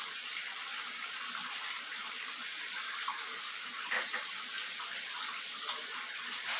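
Tap water runs steadily to top up tea heating on the fire, a continuous close rushing flow with no pauses and no talk.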